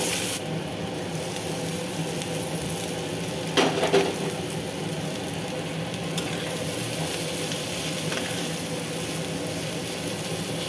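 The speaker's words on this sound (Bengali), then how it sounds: "কড়াতে তেল, শুকনো লঙ্কা, জিরে ফোড়ন দিয়ে পেঁয়াজটা দিয়ে দিয়েছি। পেঁয়াজটা একটু ভাজা ভাজা হয়ে গেলে" Onions sizzle steadily in hot oil in a wok with dried red chilli and cumin seeds, a constant close frying hiss with a brief clatter of stirring near the middle.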